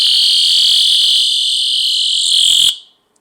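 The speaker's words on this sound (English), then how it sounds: "This hook basically sounds an alarm, and it's really a loud piercing alarm." A shrill, piercing alarm from a personal safety keychain blares continuously at close range, then cuts off abruptly near the end.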